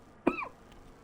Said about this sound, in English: Even that's made me fucking cough.